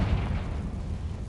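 A Confringo spell exploding in the Hogwarts Legacy game, a single loud, deep blast that starts at once and rumbles on for over a second without fading.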